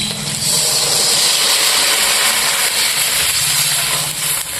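Water poured onto masala frying in oil for a village-style pangas fish curry sets off a loud, continuous hissing sizzle that runs steadily from start to finish.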